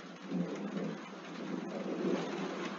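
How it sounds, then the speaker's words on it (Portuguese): Heavy rain falls in a dense, steady hiss, with a low rolling rumble of thunder underneath throughout. Both are moderately loud and no one speaks. "está chovendo agora e está relampeando, então não se espante não, é chuva, muita chuva"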